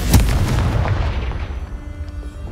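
A Confringo fire spell from Hogwarts Legacy bursts with a loud booming blast up front, followed by a crackling rumble that fades out over a couple of seconds.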